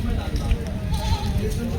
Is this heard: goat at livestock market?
yes